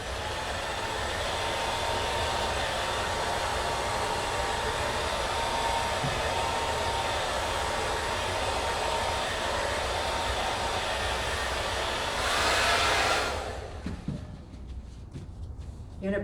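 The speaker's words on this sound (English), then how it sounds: "you're going to get your blow dryer again and you're going to go over it a little bit" A blow dryer blows over a painting to dry the paint, a steady close whoosh lasting about thirteen seconds before it cuts off into a quiet room.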